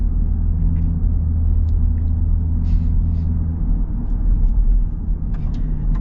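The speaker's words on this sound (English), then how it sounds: "A little bit of supercharger whine" A supercharged V8 in a Dodge Durango Hellcat drones steadily from inside the cabin, a deep continuous rumble with a faint supercharger whine riding on top.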